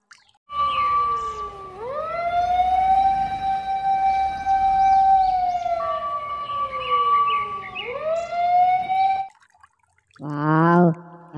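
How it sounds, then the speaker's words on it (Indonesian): A wailing electronic siren from a toy fire truck rises and falls in long sweeping tones, loud and close, then cuts off before a short chirpy toy sound. "Pemadam kebakaran."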